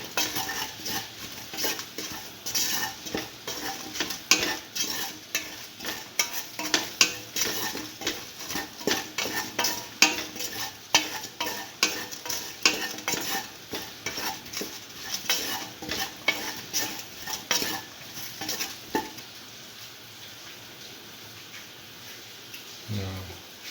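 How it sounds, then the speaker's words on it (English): Turmeric powder and spices being sautéed and stirred in a pan for a beef okra stew, with steady sizzling and frequent scraping utensil strokes against the pot, close and continuous throughout. "Put in a 1/4 spoon of turmeric powder. Mix. Thoroughly saute mix."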